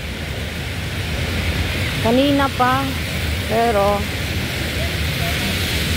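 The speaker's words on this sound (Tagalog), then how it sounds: "Yan, medyo malakas-lakas na rin ang ulan." Rain falls steadily outdoors in front of a shopping mall, a constant broadband wash of fairly heavy rain with someone talking briefly over it midway.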